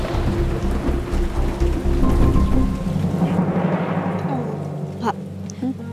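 Heavy rain pours steadily, a dense rushing patter that eases somewhat partway through, with a few sharper drips near the end.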